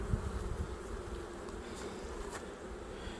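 Honey bees buzz in a dense, steady drone during a hive inspection, close and continuous without any talk.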